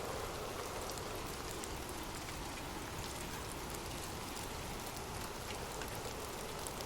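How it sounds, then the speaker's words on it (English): Gentle rain falling on leaves, a steady, even patter with dense drops throughout, continuous and unbroken, with no voices. "Imagine gentle raindrops falling softly on leaves"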